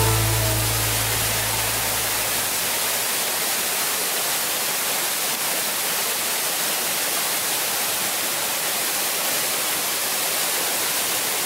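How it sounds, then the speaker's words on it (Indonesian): The Yeh Ho waterfall in Jatiluwih, Bali roars as a steady, dense wash of falling water, loud and unbroken throughout, with a brief low rumble at the start and no voices. "Di Jatiluwe ada terjun namanya adalah Air Terjun Yehu"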